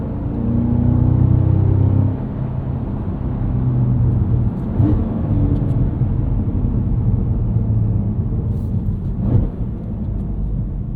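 A 2024 Cadillac CT5-V Blackwing with a supercharged V8 accelerates hard on an open backroad, a loud, continuous deep engine roar heard from inside the car, easing briefly around a shift before pulling on steadily.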